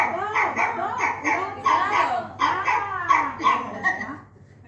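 A dog barks and whimpers in a string of about eight short, evenly spaced yelps and whines, fairly close and moderately loud, then goes quiet at the end.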